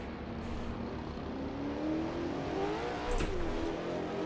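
A BMW touring car races at Lakeside Raceway, a classic Australian circuit, in a racing game, its engine droning and rising in pitch as it accelerates up the inside, with other cars' engine noise around it and no voices.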